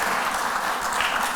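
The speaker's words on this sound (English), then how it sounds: "Can we have a little round of applause?" An audience gives a short round of applause at a public humanities event, steady dense clapping throughout with no talking over it.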